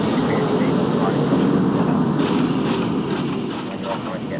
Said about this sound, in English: you get the experience of watching the train ride past the next time